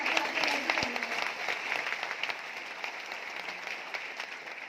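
An audience claps with loud, sustained applause at a testimonial gathering, a dense steady patter of many hands that tapers slightly toward the end, with no talk over it.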